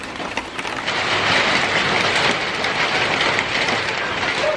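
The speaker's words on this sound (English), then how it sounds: "it's raining really, really hard out here." Heavy rain pours down in a dense, continuous hiss, loud and close, with no break throughout.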